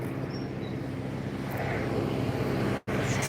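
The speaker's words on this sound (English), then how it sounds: "tractor coming along here" A tractor rumbles along a road in a farming village, making a steady low engine drone at moderate distance. The sound cuts out briefly near the end.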